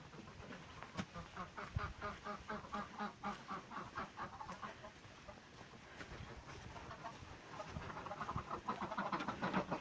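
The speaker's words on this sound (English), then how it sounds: "it's time to let out the chickens and the ducks" A busy flock of ducks quacks continuously and rhythmically, with chickens clucking among them, growing louder and denser toward the end.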